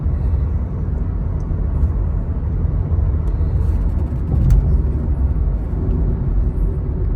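A Skoda Slavia drives along the Mumbai airport road at night, giving a steady, loud, low road and engine rumble throughout, with no talking.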